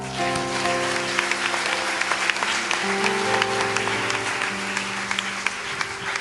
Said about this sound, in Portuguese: Então glorifica o Senhor aplaudindo o Senhor.